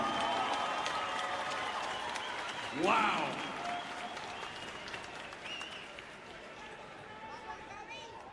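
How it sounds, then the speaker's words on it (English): Crowd applause and cheering at a women's fight event, fairly distant and steady under an announcer's voice, with a brief louder swell near the middle. "let's give both of these ladies a round of applause"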